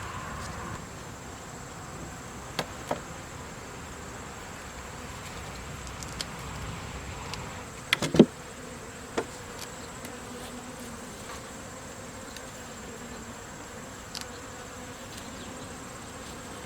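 Honey bees buzz around an open three-week-old hive with drawn combs and brood, a constant dense drone from many insects close by, with individual bees zipping past and occasional light knocks of handling.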